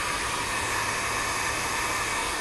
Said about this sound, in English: The heat gun is warmed up and ready to use.